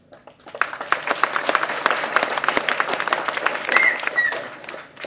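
Audience applause at a film event, a dense spread of many hands clapping steadily for several seconds, moderately loud and slightly distant, swelling then tapering off, with a few scattered cheers.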